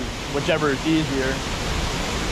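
Steady rushing water from a waterfall on Rattlesnake Creek forms a constant broad hiss close by, with a person talking over it.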